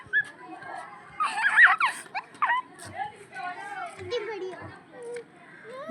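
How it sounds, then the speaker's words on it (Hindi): Village children shout and squeal at a moderate distance in a lively, irregular burst of noisy play, and their voices carry on more faintly afterward. "बच्चों का शोर आ रहा है"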